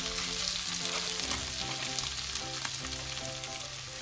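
Vegetables for a cod, prawn and pepper empanada frying in a skillet with a little added raw oil, a dense steady sizzle heard close with faint stirring movement and no talking.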